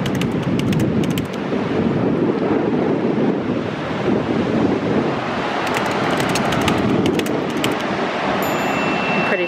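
Steady roaring wind and crashing ocean surf along a beach front walkway, loud and continuous with heavy wind buffeting on the microphone throughout.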